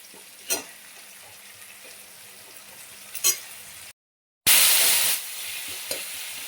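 Chopped ginger and tomatoes fry in a pan for an Indian curry, with scraping stirs over a low sizzle, a brief cut-out, then a loud burst of frying that settles back.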